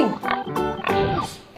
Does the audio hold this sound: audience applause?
no